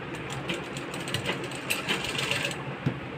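A sewing machine stitches a strip of trim onto the front neckline of a waistline belt blouse, its mechanism running in a steady, fairly quiet ticking whir with no talk.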